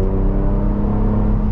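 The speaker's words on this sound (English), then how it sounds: "You can make your exhaust quiet. It still actually is fairly loud." A truck's exhaust drones loud and steady while driving, a continuous low rumble with engine whir and no pauses.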